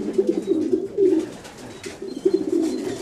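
Pigeons coo in a pigeon loft, with several soft, rounded coos close by and repeating in short bursts, and no one talking.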